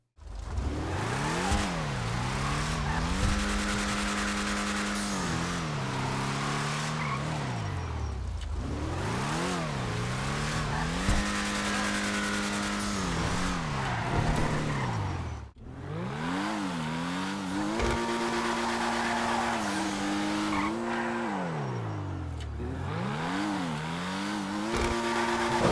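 Tuner car engine in GTA 5 revving hard against the rev limiter under acceleration, pitch climbing and bouncing at the cutoff in repeated loud bursts, with brief drops between pulls and no talking.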